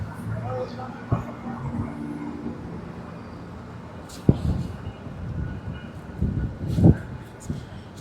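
Rail carriage ride near Malaga on the Costa del Sol, with steady rumbling wheels, clunks and occasional bangs from the track, fairly close, under faint background chatter.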